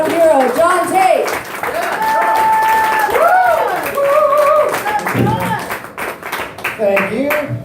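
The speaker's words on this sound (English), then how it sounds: "Yeah, so let's start that applause. Keep it going." Comedy club crowd in Nanaimo claps and cheers for a hometown comedian taking the stage, a loud, continuous wash of applause running underneath a host's amplified voice throughout.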